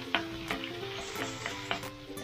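Aromatics sizzle steadily in a hot pan while being sautéed for a bean sprout and tofu dish, with a few sharper clatters of stirring cutting through the continuous frying hiss.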